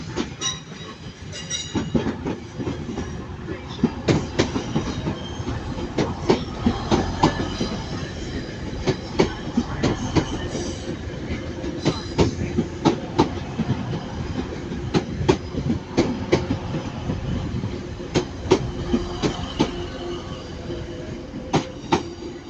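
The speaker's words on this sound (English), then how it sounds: "Coming in here is the 1307 Transpennine Express service to Liverpool Line Street." A TransPennine Express train bound for Liverpool Lime Street pulls into Manchester Piccadilly station, with a steady heavy rumble and repeated clickety-clack of wheels over rail joints the whole way through, no voices.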